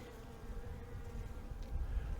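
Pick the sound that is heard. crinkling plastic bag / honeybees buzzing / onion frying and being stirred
honeybees buzzing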